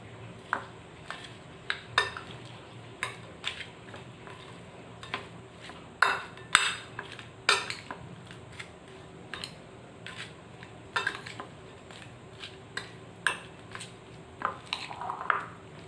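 A spoon mixes ingredients for Bengali prawn paste in a bowl, with irregular clinks and scrapes of cutlery against the dish and soft squishy stirring between them, close and with no talk.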